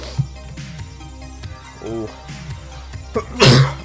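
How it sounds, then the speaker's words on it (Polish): A single sharp sneeze bursts out near the end, loud and close, after a stretch of quiet game music with faint sniffles and throat sounds. "Oj, zaraz kichnę."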